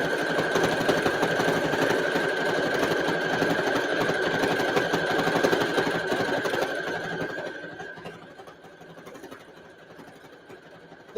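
A sewing machine stitches fabric at a steady high-speed hum with a tonal whine for about seven seconds, then slows and quiets toward the end. No one talks over it.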